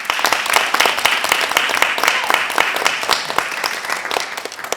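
A master class audience at a music college breaks into steady, dense applause, many hands clapping at close range and fairly loud for several seconds, with a little chatter mixed in.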